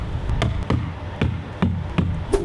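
An upside-down plastic trash container is struck by hand, giving about six hollow, low bass thumps in a loose, uneven rhythm, close and fairly quiet.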